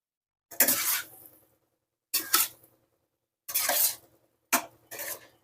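Spiced soybean and potato curry stirred in a pan with a little water: four separate scraping, clinking bursts of utensil against metal, close and moderately loud, with silent pauses between them.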